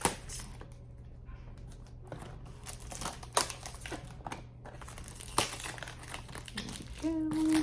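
Cellophane wrapping crinkles and tears as it is pulled off a perfume box, a close, irregular stream of crackles and snaps with a person's voice faintly in the background.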